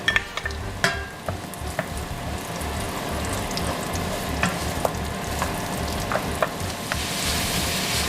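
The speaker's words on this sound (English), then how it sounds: "Okay, so I'm just going to put the shallots in." Shallots and beef frying in a pan, a steady sizzle with scattered clinks and scrapes of stirring throughout, close and fairly loud with no talking.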